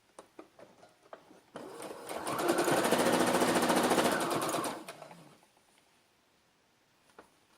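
A sewing machine stitches the sleeve strip of a baby frock, whirring steadily for about three seconds after soft handling taps and clicks, then slowing and stopping, with light scattered clicks afterward.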